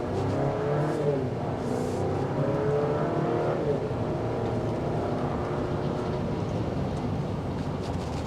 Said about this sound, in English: the engine sound is not necessarily the most desirable